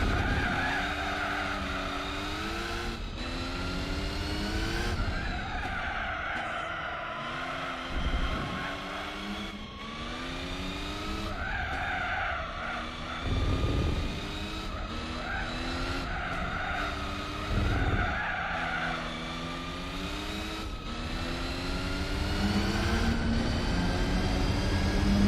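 Race car engines in Gran Turismo 4 wail through repeated gear changes while tires squeal and skid as the car loses grip, loud and continuous with sharp shifts throughout.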